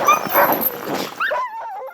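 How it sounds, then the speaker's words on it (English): Sled dogs from a team of 23 trained for tours bark and whimper up close, a loud jumble of yelps that gives way to thin, wavering whines. "he was training 23 dogs for tours"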